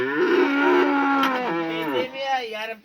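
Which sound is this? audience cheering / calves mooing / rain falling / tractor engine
calves mooing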